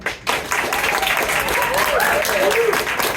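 Taphouse crowd at a live comedy show applauding loudly to vote for a contestant, a dense sustained burst of clapping with shouts and cheers mixed in.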